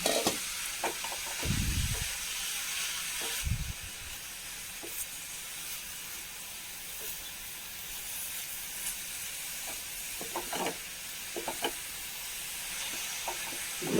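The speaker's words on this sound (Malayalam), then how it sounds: "ഒന്ന് ഇളക്കി യോജിപ്പിച്ച് കൊടുക്കാം" A jackfruit-seed and prawn curry is stirred and mixed in a pan, with a steady steamy hiss throughout and a few soft scraping strokes of the spoon near the start, otherwise fairly even and quiet.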